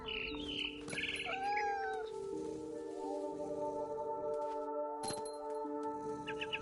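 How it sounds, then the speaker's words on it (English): Barn swallow chirping in What Remains of Edith Finch, short bright tweets near the start over a steady game music bed, with tonal chimes and a later clink, moderately loud throughout. "It was a barn swallow going back to her nest."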